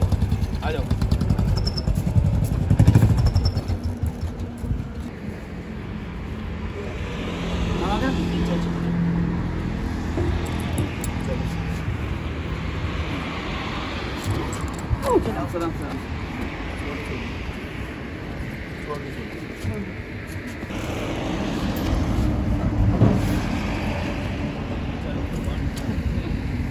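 A KTM Duke 250 motorcycle engine labours up a slope on a winter ride, its rumble rising and falling at close range with short revs, while people talk over it.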